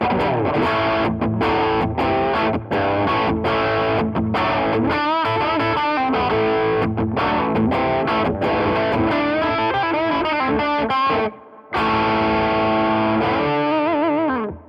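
An electric guitar runs through the overdrive channel of a Rajani Amps VOD-50 tubeless amp at low-to-medium gain, playing a steady classic-rock riff of chords and single notes with one brief pause near the end.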